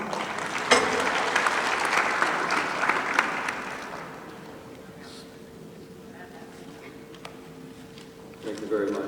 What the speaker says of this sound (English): Mr. Bolton, let's give him a warm round of applause